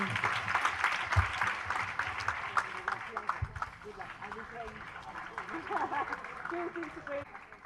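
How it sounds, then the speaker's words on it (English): A crowd at a UN Women campaign launch applauds Sania Mirza with steady clapping that fades a little over time, while voices talk and call out over it. "huge round of applause for Sania"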